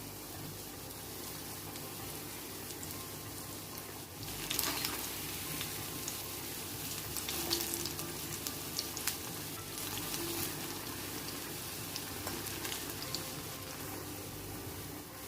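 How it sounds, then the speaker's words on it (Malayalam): Slices of ripe banana frying in hot oil for an evening snack, a steady crackling sizzle that runs throughout, swelling slightly in the middle with a few sharper pops, heard close and alone without talk. "ഫ്രൈ ചെയ്തിട്ട് ഇതുപോലെ ഗോൾഡൻ ബ്രൗൺ കളറായി കഴിഞ്ഞാൽ നമുക്ക് ഓയിലിൽ എടുത്ത് മാറ്റാം"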